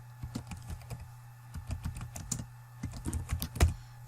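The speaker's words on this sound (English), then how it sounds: "first of all, you type your name" Keys clatter on a computer keyboard while a name is typed into a word processor document header, with quick irregular clicks in short runs and small pauses, close and fairly quiet, and no voice.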